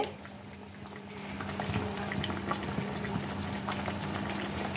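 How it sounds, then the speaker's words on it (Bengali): Potato curry gravy for aloo dum with small new potatoes starts to boil over a high gas flame. It gives a steady, close bubbling and sizzling that swells slightly, with a faint low hum underneath. "ঝোলটা ফুটতে শুরু করে দিয়েছে"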